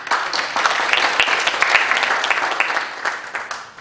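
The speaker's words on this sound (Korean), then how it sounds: "박수로 답해 주시면 감사하겠습니다." Warm audience applause for guests introduced at a National Assembly symposium, dense clapping from a seated crowd, steady and fairly loud, easing off at the end.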